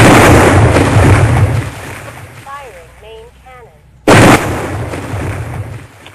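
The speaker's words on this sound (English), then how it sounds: "Hey, dude, the Jeep blew up." A jeep explodes in the Halo video game with heavy booming blasts, first a long roaring burst that fades, then a brief quieter pause with faint chirpy tones, and then another sudden loud explosion.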